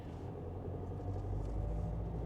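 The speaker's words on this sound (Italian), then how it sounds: "Si sente un po' il rumore del minimo del diesel, ma appena appena." A Citroen C4 1.5 diesel, four years old with 80,000 km, idles quietly as heard from inside the cabin, giving a steady, faint low rumble throughout.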